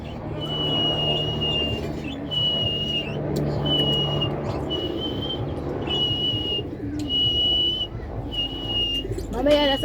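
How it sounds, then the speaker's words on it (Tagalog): Human whistling in short, steady high notes, repeated about six times with brief pauses, over a busy outdoor background of low rumble. "Sipol ulit si kuya, sipol."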